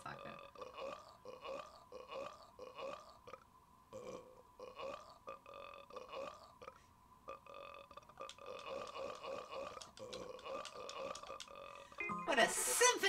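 Robotic belching sound effects from the WarioWare-style game Work Time Fun, a rapid series of short burps repeating in quick rhythmic bursts, ending in a loud noisy blast.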